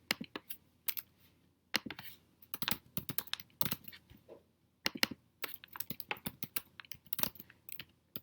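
Fingers type a Gimkit game code on a computer keyboard in quick, irregular bursts of close, crisp key clicks separated by short pauses.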